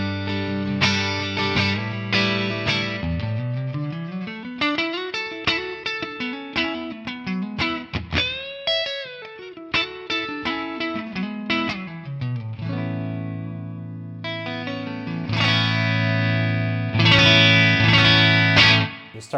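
Electric guitar played through a Tonex capture of a Fender brown-panel Vibroverb amp with the volume knob rolled down, a mostly clean tone with slight grit: sliding notes, bends and strummed chords ringing alone, ending in louder sustained chords.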